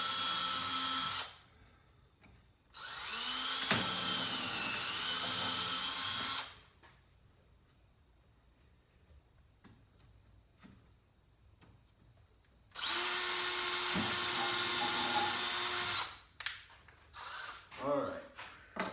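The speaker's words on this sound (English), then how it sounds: "you don't have to drill all the way down in there, just get some starter holes going" A power drill with a small bit bores starter holes into a saw table in two separate loud whirring bursts, with quiet pauses and clatter between them.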